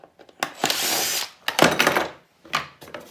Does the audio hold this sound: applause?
no